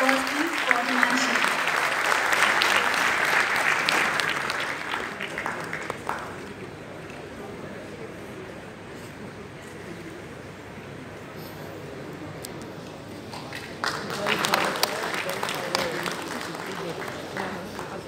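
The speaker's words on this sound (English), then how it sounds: "A huge round of applause, please, for Himanshi." Applause from a convocation audience breaks out loud and full, fades to a lighter patter through the middle, then rises again in a second burst of clapping.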